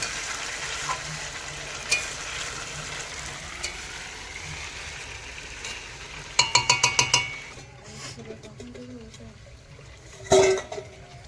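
A heavy duck's meat being stirred and frying in a cooking pot, with a steady sizzle, scraping strokes of a spoon against metal and a quick burst of clattering taps midway, plus a later clank.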